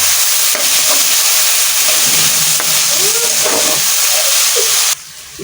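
Chopped onions with sliced green chillies frying in a pan for a pangasius fish dish, a loud, close, continuous sizzle with stirring scrapes, cutting off sharply near the end.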